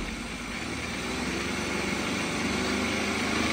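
A Opel Mokka engine with a manual gearbox revving under throttle, a steady loud mechanical drone that climbs slightly in pitch, heard up close, with the harsh clattering gone.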